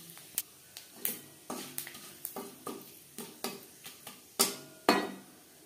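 Panch phoron and torn bay leaf pieces hit hot oil in a kadai still holding oil from fried fish for katla curry. A soft sizzle runs beneath a steady series of sharp metallic clinks from stirring, close and alone.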